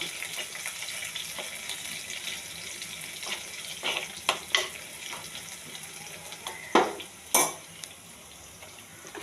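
Chili and turmeric powder fry in oil for a prawn dish, giving a steady close sizzle with scattered sharp clicks and scrapes from a spatula. No one speaks.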